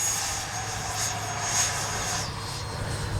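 A Freewing 90mm F-22 RC jet flies past with a steady, hissing turbine-like whine that swells and fades slightly, heard from a moderate distance outdoors without talking.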